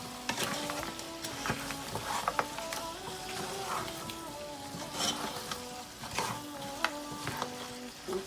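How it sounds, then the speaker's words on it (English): Chopped onions frying in a pan being stirred for a pan-grilled mutton dish, with a steady sizzle under repeated scraping and clattering strokes of a utensil, close and busy throughout. "So now I'm going to add the onions. And then I'm going to stir all of that too."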